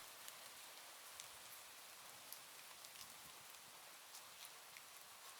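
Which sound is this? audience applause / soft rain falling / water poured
soft rain falling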